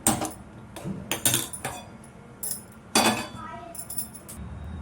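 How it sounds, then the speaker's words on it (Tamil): Metal and ceramic clanks and clinks as a cooking pot is handled and set down on a stove, several sharp knocks in quick succession with kitchen background and brief speech. "இப்போது ஸ்டவ் ஆன் பண்ணி பாத்திரம் வச்சுக்கலாம்"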